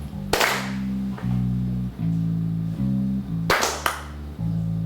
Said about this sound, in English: Now let's clap on the one of each bar